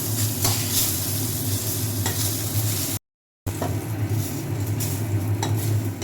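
Whole spices frying in oil in a pan for a Bengali doi begun dish, a loud continuous sizzle with stirring, briefly cut silent midway before resuming.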